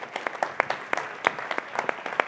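Scattered audience clapping at a housing summit conference, a thin, uneven patter of individual claps from a modest crowd rather than a full ovation, heard alone without voices.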